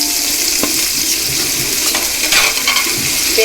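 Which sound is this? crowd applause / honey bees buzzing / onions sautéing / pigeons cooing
onions sautéing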